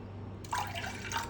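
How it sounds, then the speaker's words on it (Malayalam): Water poured into ragi flour with a pinch of salt for a liquid breakfast, a soft close trickle and splash starting partway through and running steadily to the end, with no talk. "നമുക്ക് ഇച്ചിരിയോടെ വെള്ളം ഒഴിക്കണം."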